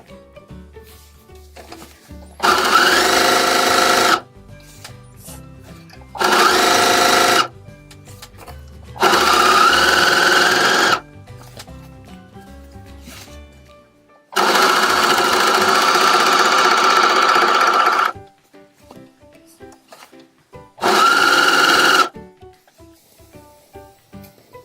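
A coverstitch machine stitches fabric with a curved edge in five loud, close bursts of rapid mechanical whirring, each lasting a couple of seconds, separated by quieter pauses with faint handling sounds.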